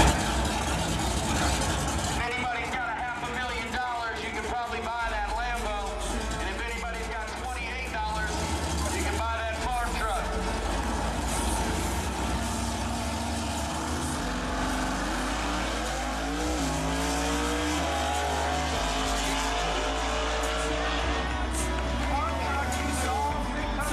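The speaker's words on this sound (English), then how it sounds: "Farm Truck is a 70s truck with no polish who loves to challenge cars with polish like this Lamborghini" A 1970s pickup truck called Farm Truck races a Lamborghini, with loud, continuous engine roar and revving, shifting pitch and occasional tire squeal, mixed with music or voices throughout.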